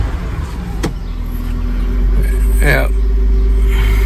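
A 1999 Honda Odyssey engine idles smoothly and steadily after a fuel pump replacement, a low continuous rumble up close, with a short spoken remark and a brief mechanical whir partway through.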